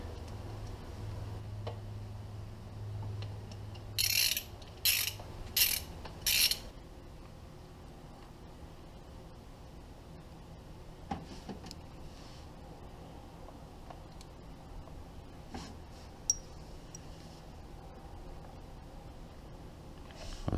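Wrench work on the front sprocket of a Yamaha XT225 motorcycle, with sparse mechanical ticks and clicks and a short burst of four sharp ratcheting rasps early on, followed by scattered faint taps in a quiet room.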